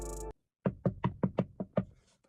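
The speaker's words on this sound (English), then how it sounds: "So that's the glass banging in the front." Seven sharp bangs on the glass front door of a Papa John's pizza shop at night, struck in a steady, evenly spaced series, loud and close, with no talk over them.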